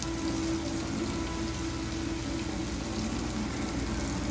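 Onions and tomatoes fry in a pan over the flame, giving a steady, dense crackling sizzle with no pauses, close and even throughout with no talking.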